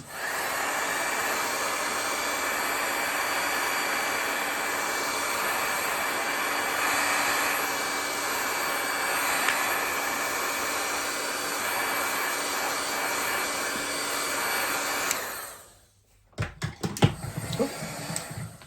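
Heat tool blowing to dry embossing glaze on a craft project, a steady loud whirring hiss that runs for about fifteen seconds, then cuts off and is followed by a few close handling knocks.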